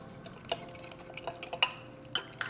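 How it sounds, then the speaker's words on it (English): Flour being stirred into beef broth to dissolve it for pot roast, with brief clinks and light scraping of a utensil against a container. "we're going to mix our flour with our beef broth"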